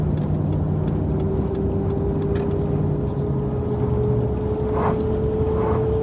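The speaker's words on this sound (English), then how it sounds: "This truck makes lots of noises, so I apologize. Leaky windows, whiny transmission." An old police truck cruising on a highway, a steady broadband road and engine roar with a constant whining transmission tone and wind rushing through leaky windows, continuous and loud throughout.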